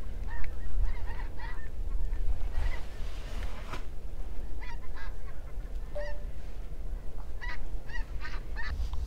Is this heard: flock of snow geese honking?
yes